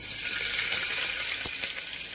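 Onions frying with whole spices such as cloves and peppercorns in a pressure cooker, a soft continuous hiss with one brief clink near the end, and no voices.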